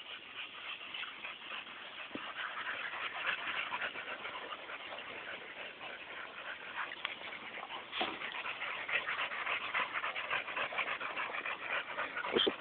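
A pack of pit bull dogs pants and whimpers nearby, with continuous rapid breathing, soft whines and occasional yips and shuffling paws, and no talk.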